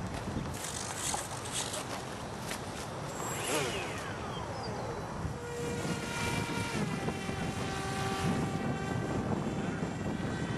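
A radio-controlled F-117 model plane with a big motor flies into the wind at low throttle, producing a steady propeller drone with a whine that sweeps in pitch as it passes at moderate distance, fairly faint against outdoor wind noise.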